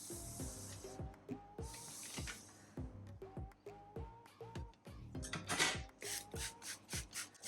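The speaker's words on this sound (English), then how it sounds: "So I'm just spraying the aquarium with water" A handheld water spray bottle mists the glass of a 45-litre aquarium in a series of short, close hissing sprays between squeaky trigger clicks, each burst sharp and separate, with no voices.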